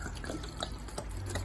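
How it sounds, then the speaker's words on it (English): Vodka pouring into a jug of ginkgo leaves, a steady liquid trickle with dripping and splashing, moderately quiet and continuous throughout. "So we're gonna pour a good half of that jug in there."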